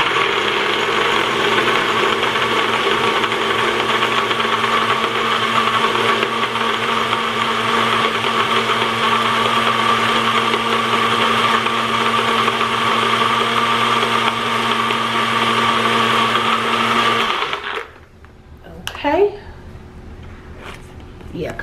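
A blender whirs steadily at high speed for a long stretch, loud and constant, then cuts off, leaving faint clattering.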